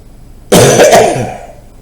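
A single sharp cough bursts out loudly, then rasps and trails off over about a second, with no talking around it.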